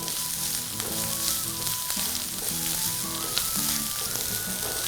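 Grated coconut with masala sizzling steadily in a hot pan during vendakkai masala curry preparation, a loud, continuous crackling fry with faint scraping as it is stirred, with no voices.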